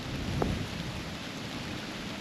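Rain falls through the woods in a windy storm while bowhunting for whitetail deer, giving a constant soft hiss of drops. One brief nearby knock stands out near the start.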